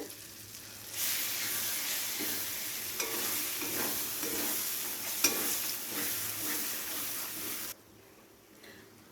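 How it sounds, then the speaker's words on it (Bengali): Masala for paneer fries in oil, a loud continuous sizzle with steady scraping stirs close by, then it drops off sharply near the end. "প্রায় 3 থেকে 4 মিনিট কষিয়ে নিলেই কিন্তু হয়ে যায়।"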